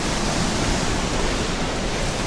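Waterfall spray pouring over rock into caves on Lake Phewa in Nepal, a loud, continuous broadband roar of rushing water filling the whole clip with no voices.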